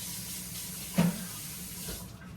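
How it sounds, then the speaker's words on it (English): A kitchen tap runs briefly as an emptied sweetened condensed milk can is rinsed, giving a soft steady water hiss with a short splash and clatter near the start. No one speaks. "Wash the can off."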